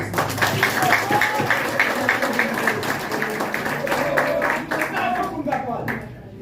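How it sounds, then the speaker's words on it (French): Warm applause fills the room at an installation ceremony for a departmental health administrator, steady mixed clapping from a crowd with voices talking over it, easing off at the end. "de l'applaudir chaleureusement"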